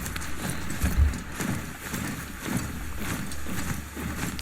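A horse in the video game Horizon Zero Dawn gallops with rhythmic clip-clopping hoofbeats, close and fairly loud, joined by a brief snort or whinny-like burst and a soft wind-like background, with no talking.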